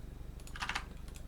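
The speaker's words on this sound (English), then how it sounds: "typing in some numbers" A short burst of quick keystrokes on a computer keyboard, several taps in a fast cluster near the centre, soft and close against a low steady hum, no voices.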